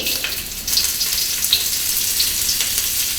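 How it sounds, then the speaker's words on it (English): Onion, garlic and ginger sauté in sesame oil in a hot pan for a beef black pepper stir fry. The result is a loud, steady sizzle with crackling pops and no talk. "saute the onion, garlic, and also the ginger"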